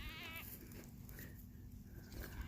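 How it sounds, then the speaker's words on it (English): Goats in a pasture, with a single wavering bleat near the start followed by faint farmyard background sounds. "that's my front pasture and my goats"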